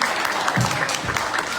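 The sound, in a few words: crowd applauding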